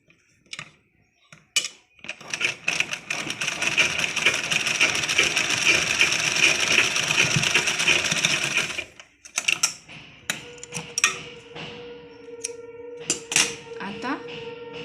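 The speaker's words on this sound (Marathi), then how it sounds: "इथून अशी साईडून शिलाई मारून घेऊया" A sewing machine runs a long steady stitching pass, then a few shorter bursts, while sewing a fabric latkan tassel with cord for a blouse. It whirs continuously and close for about seven seconds, with someone speaking around it.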